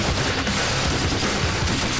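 Loud, sustained automatic gunfire at the Oklahoma Full Auto Shoot and Trade Show, a dense, continuous fusillade of rapid shots with no pauses.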